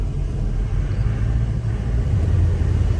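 A 1969 Plymouth GTX with a Hemi engine rumbles steadily from inside the cabin while driving, a deep continuous drone with road noise and a slight rise in pitch toward the end.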